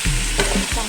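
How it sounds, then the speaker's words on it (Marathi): Brinjal stir-fried in a pan gives a loud, close sizzle broken by a couple of quick scraping strokes of a spatula across the metal. "चांगलं परतून घ्यायचं"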